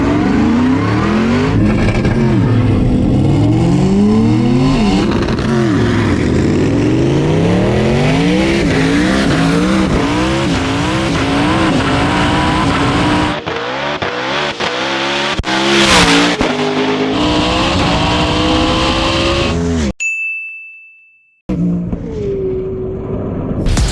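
Ken Block's 1,400hp all-wheel-drive Ford Mustang Hoonicorn and a McLaren Senna launch side by side in a drag race, engines roaring hard and loud through rapid gear changes with tire squeal, before the sound cuts out abruptly near the end.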